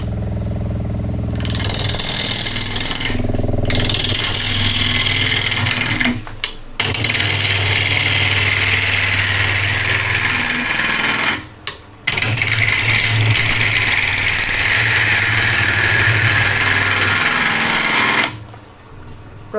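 A wood lathe spins at about 900 RPM with a loud, steady mechanical drone, broken by a few short pauses where it briefly cuts out, running alone without speech.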